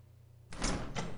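A door opens in the video game SWAT 4 with a sudden loud swish and rattle, then a second push of the same noise right after. Quiet background comes before it.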